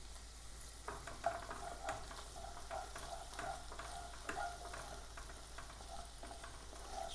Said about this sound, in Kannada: ಶುಂಠಿ ಬೆಳ್ಳುಳ್ಳಿ ಪೇಸ್ಟ್ ಹಾಕ್ತೇನೆ.